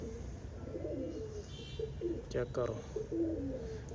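Champion pigeons coo in low, soft throaty bursts close by, mixed in with someone talking.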